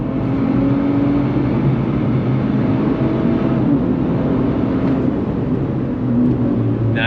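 A 2025 Nissan Z Sport pulls hard in second gear under throttle, its engine a loud, continuous roar heard from inside the car from start to finish.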